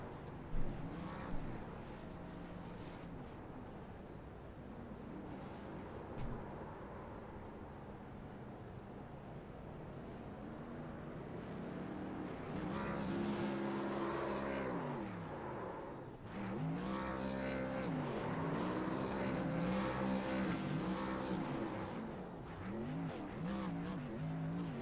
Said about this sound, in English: Couple of burnouts down on the start-finish line here in Talladega